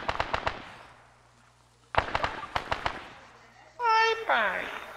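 Sharp cracking gunshots in ArmA 3, a burst at the start and another volley midway, followed by a rising electronic whine.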